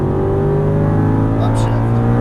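Aston Martin V8 Vantage on a racing circuit pulling hard on throttle, a loud steady engine roar with a rising tone close up, with a driving instructor talking over it.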